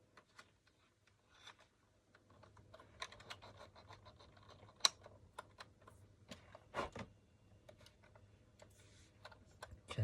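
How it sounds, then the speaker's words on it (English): A computer keyboard being cleaned gives off scattered soft clicks and taps, close and quiet, with a low steady hum behind them and a few louder knocks partway through. "Just cleaning my keyboard"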